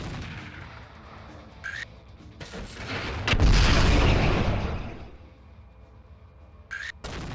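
Mech weapons fire in the MechWarrior 4: Mercenaries game, a few sharp reports followed by a loud, rumbling blast as an enemy generator is destroyed, then fading to a low background drone.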